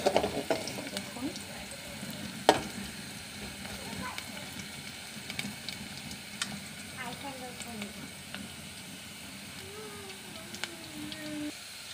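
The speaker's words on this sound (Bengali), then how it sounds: "যখন দেখবেন পেঁয়াজ মরিচটি ভাজা ভাজা হয়ে এসেছে" Onion and chili frying in a pan for a prawn and ash gourd dish, a quiet steady sizzle with scattered clicks and scrapes of stirring, while a voice talks softly over it.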